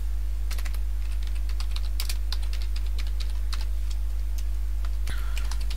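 Quick, irregular keystrokes on a computer keyboard, clicking in bursts and close by over a low steady electrical hum, with no voices.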